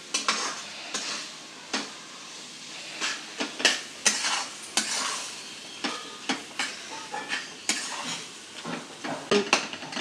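Washed spring onion greens frying in a pan for Maharashtrian brinjal bharit, with steady sizzling broken by repeated sharp scrapes and clinks of a spoon stirring against the pan, no talk.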